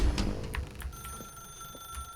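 A telephone rings in the video game The Stanley Parable, a quick series of bright bell trills repeating in a steady rhythm, fairly faint, with no talking.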